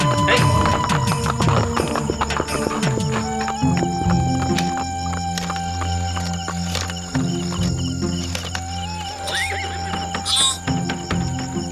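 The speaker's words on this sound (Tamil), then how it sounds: "நம்ம ஸ்டேஷன் முன்னாடி ஒரு குதிரை வந்து ஒரே அட்டகாசம் பண்ணிட்டு இருக்கு சார்" A horse neighs and whinnies loudly outside a police station in an old Tamil TV serial scene, with hooves clopping in a steady rhythm beneath a dense music and effects bed.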